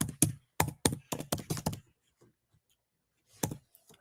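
A quick run of close keystrokes tapped on a computer keyboard, a pause, then a few more clicks.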